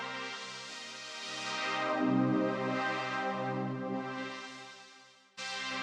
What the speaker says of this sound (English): FilterField on a pad sound